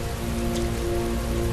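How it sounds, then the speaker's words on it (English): Heavy rain pours steadily onto surfaces in the video game Heavy Rain, a dense, continuous wash of close patter with no other sounds. "Heavy rain. It's been the same for weeks."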